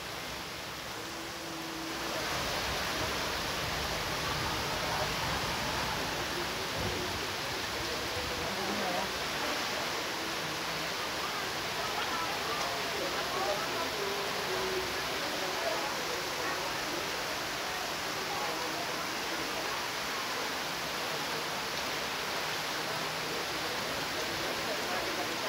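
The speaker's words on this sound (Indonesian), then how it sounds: "Ancol hujan gede." Heavy rainstorm with strong wind at Ancol, Jakarta, pouring down with a constant roar of noise, steady and loud throughout.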